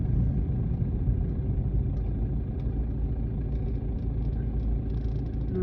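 Car tyres roll on tarmac while driving through Norwich, a steady low rumble and road roar heard from inside the car, continuous and even throughout.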